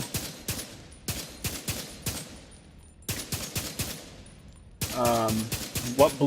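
Bursts of gunfire in The Division 2 video game, sharp clusters of shots separated by short pauses, loud and close, with a musical electronic tone rising near the end.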